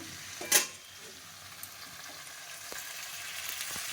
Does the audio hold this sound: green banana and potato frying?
yes